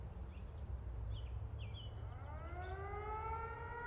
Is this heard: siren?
yes